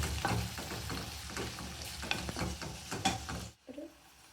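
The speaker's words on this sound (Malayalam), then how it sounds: "നിറയെ ഒരു സ്പൂൺ മുളക് പൊടി ഇട്ട് കൊടുക്കാം നമുക്ക് ഒന്ന് മിക്സ് ചെയ്ത് കൊടുക്കാം" Chili powder being stirred into a lemon pickle, a steady scraping and mixing texture close by, ending in a brief near-silent pause before a soft knock.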